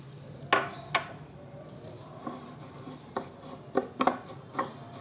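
A spoon stirs tulsi seed powder into a mixture in a small bowl for a home remedy, tapping and clinking against the sides in a few irregular, sharp metallic knocks over a quiet background.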